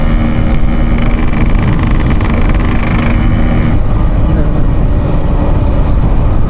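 A Yamaha RX King two-stroke motorcycle ridden gently at moderate revs on fresh two-stroke oil, a loud steady engine drone with road noise throughout, while a person talks over it.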